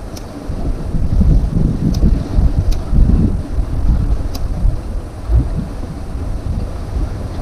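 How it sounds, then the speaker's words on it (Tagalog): Strong wind buffets the microphone at a fishing spot outside Metro Manila, a loud, uneven low rumble that rises and falls in gusts throughout. "Mahirap yung malakas ang hangin."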